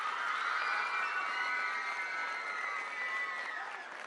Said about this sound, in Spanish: Un aplauso a todas y a todos ustedes